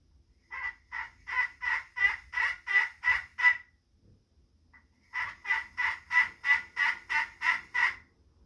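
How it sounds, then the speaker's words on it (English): Two runs of rhythmic, evenly spaced yelps from a hen call played on a wooden turkey call, about eight notes each, separated by a short pause, clear and close. "This is going to be basically your average hen call."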